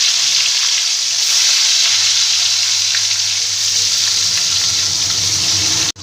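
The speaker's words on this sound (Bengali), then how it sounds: "এবার মাছগুলোকে আস্তে আস্তে ভেজে নেব" Small snakehead fish frying in oil, a loud, dense, continuous sizzle close by that holds steady and then cuts off abruptly at the end.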